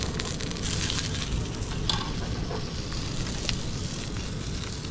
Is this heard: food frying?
yes